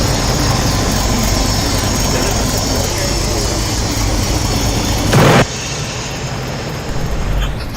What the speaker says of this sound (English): Yeah, train on the Kearney rail cam right now.